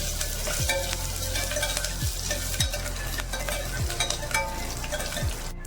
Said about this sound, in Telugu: ఇందులోనే ఎండుమిర్చి కొద్దిగా కరివేపాకు కూడా వేసుకొని కలుపుకోవాలి